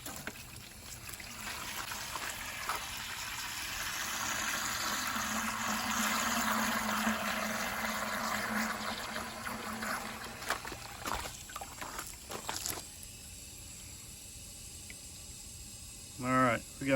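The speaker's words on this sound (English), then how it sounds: "I'm going to put some water in there now. Got the trusty little hose here." A garden hose fills a homemade DIY poultry waterer, sending out a steady rushing pour that swells and then thins. Brief clatters and a quieter trickle follow near the end.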